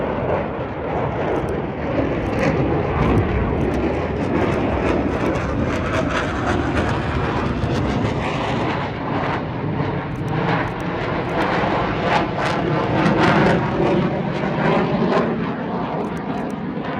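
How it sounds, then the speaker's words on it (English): An F-35 fighter jet passes low and fast at an air show, a loud continuous roaring rumble that fills the whole stretch without letting up. "the F-35 is coming in low and fast"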